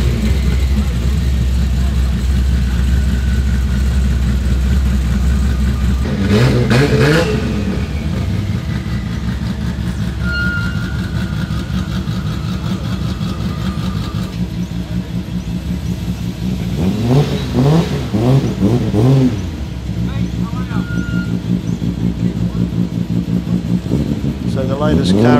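Muscle cars rolling into a Cars & Coffee meet: a low idling rumble gives way to passing engines that rev and accelerate in bursts, with a loud throaty pass near the end and voices faint in the background.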